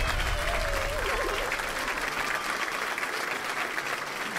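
A studio audience on a Vietnamese television game show claps after a fire is lit, sustained applause under a voice and a rising whistle-like tone at the start, fading slightly toward the end.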